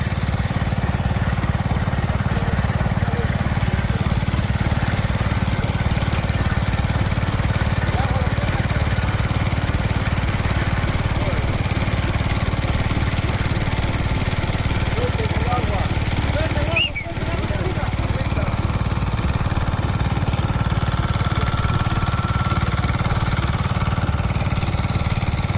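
A well drilling rig engine drones steadily and loudly throughout with a constant low rumble, like heavy machinery running nonstop, with faint voices underneath.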